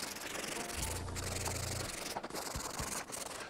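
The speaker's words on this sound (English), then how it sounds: "I'll do that with a hand sander." A hand sander smooths the corners and edges of a wooden trivet, making a steady, close, continuous rubbing hiss with a slightly heavier stretch in the middle and no talking.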